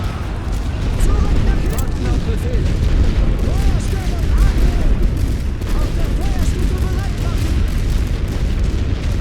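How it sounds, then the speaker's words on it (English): Booming mortar and artillery fire with explosions rumbles continuously in a battle from The Great War: Western Front, loud and dense throughout, with someone talking over the bombardment. "Come on, mortars, do your job, lads."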